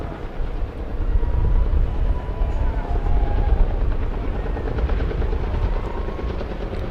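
A helicopter hovers over a drag strip at the Vegas Motor Speedway, its rotor beating out a steady, loud, continuous rumble with broadband wash and no break throughout.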